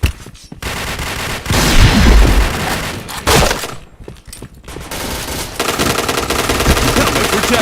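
Automatic gunfire and explosive booms from a first-person shooter game, dense bursts and loud thuds rolling through the whole stretch with brief gaps.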